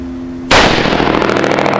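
A single loud, close .308 rifle shot fired through a Dynamic Resistance muzzle brake/compensator. It cracks sharply after a quiet start, and a long, rumbling echo follows.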